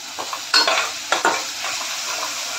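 Cumin and coriander powder fry in a pan over a raised flame, giving a loud close sizzle broken by a few sharp stirring scrapes against the pan, with no talking.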